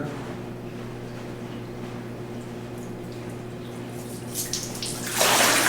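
A steady low hum with faint trickling water, then a sudden loud rush of water gushes through a freshly drilled hole near the end.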